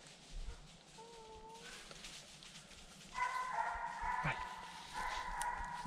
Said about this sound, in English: There's two dogs running this deer, but Edie Raine kind of backed out a second.